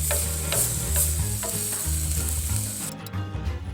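A mixture with molasses added cooking in a pan, giving a continuous close sizzle with light scraping and stirring clicks, easing slightly toward the end.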